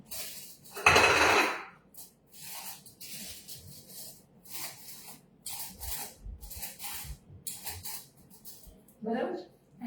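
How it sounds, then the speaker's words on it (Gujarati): Aluminium foil crinkling and rustling as it is pressed over a dish for steaming, in uneven bursts with one loud crackle near the start, while a person talks between the rustles. "હવે આની ઉપર એલ્યુમિનિયમ ફોઇલને કવર કરી દઈએ"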